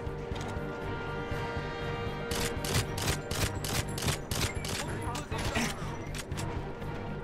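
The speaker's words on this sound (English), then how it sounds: "There's a sniper shooting me through a wall" Rapid bursts of gunfire from a sniper in the 007 Wii video game, sharp repeated shots in a fast cluster during the middle of the clip, mixed with game sound and voices.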